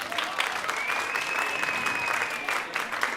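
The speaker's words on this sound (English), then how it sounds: "Everybody, please give a big round of applause to our founder" An audience applauds founder Steve Cannon, who died in 2019, at a marathon reading event: steady, dense clapping fills the room for a few seconds with a thin tonal whine running over it.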